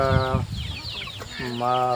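Native country chickens clucking and calling in a shed during hot summer weather, several birds close by in steady bursts.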